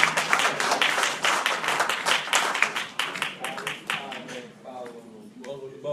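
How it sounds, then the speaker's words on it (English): Audience claps for Ronald Cunningham at a community gathering of elders: a dense burst of hand claps for about four seconds, then a voice begins talking as the clapping thins out. "So please, round of applause for Ronald Cunningham."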